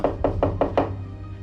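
Five quick, firm knocks on a door in an even rhythm, loud and close, then stopping with a low hum underneath.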